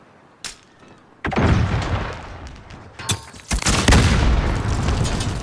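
Sharp grenade blasts and gunfire in Call of Duty: Modern Warfare multiplayer, a single early crack followed by heavy booming explosions and rumbling that grow louder and denser toward the end.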